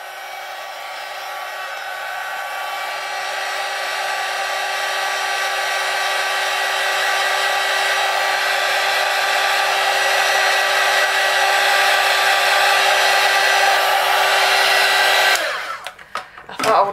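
A hair dryer blows steadily on artwork treated with hand sanitizer, a loud, close, whining hum that holds for about fifteen seconds before abruptly cutting off.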